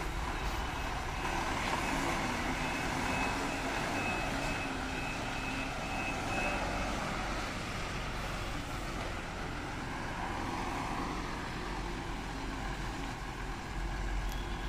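A 12-tyre truck hauling a liquor load drives at night, heard as a faint, steady broadband road and engine rumble without talk.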